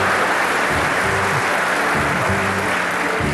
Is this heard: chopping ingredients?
no